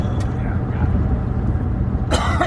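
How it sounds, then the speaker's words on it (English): A man coughs inside a moving car at an airport pickup, a short rough burst near the end over the steady road and engine drone of the cabin. "Man, I developed a cough like 3 days ago"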